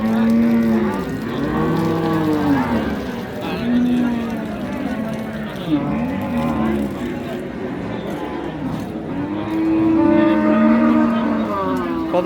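Cattle raised for meat moo repeatedly at a livestock market in Dinajpur, with several long, loud bellows rising and falling while people talk nearby amid market chatter.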